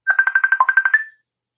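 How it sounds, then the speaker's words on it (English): A mobile phone ringtone plays alone, a quick run of about a dozen bright, evenly pulsed electronic beeps that ends with a short held tone. "Who's ringing me? Somebody's ringing me."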